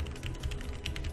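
Close, crisp clicks from a Logitech mechanical keyboard come as a short flurry of rapid key presses, with nothing else heard.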